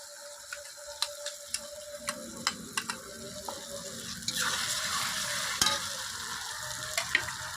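Quiet stirring clicks against a pan come first, then ground spice paste with black peppercorns hits the hot pan for chicken curry and a louder, steady sizzle takes over, with occasional spoon taps.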